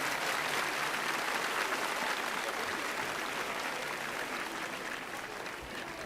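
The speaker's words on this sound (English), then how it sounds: "One more round of applause here" Steady applause from an audience fills the air, a dense unbroken patter of many hands that holds level for several seconds and eases only slightly toward the end, with no voices rising above it.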